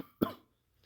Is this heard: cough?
yes